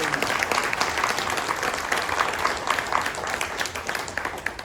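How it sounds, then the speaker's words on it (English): Audience applause at a Blade Runner comics panel at San Diego Comic-Con, a dense, sustained clapping from a large crowd, steady and fairly loud with no talking over it. "Give this man a round of applause, please."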